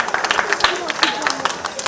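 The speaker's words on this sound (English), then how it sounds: "Let's give him a round of applause as one of the awardees present here." Brief scattered hand claps from an audience greeting an awardee at an outdoor festival celebrating the steelpan, heard sparsely under someone speaking over a microphone.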